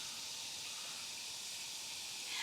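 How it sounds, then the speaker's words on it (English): A homemade bath bomb from a Walmart kit fizzes steadily in water, giving a continuous soft hiss like soda close by, with no talk over it. "it's fizzing like soda or something"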